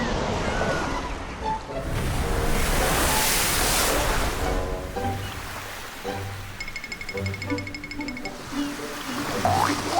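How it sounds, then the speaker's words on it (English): Ocean waves wash onto a beach in a steady hissing rush that swells and fades, with a soft voice and faint tones surfacing over the surf later on. "Waves are rushing back to the beach."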